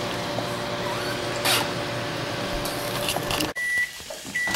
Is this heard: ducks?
no